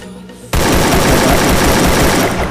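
Sustained rapid automatic gunfire in the Free Fire video game, loud and continuous after a short quiet start.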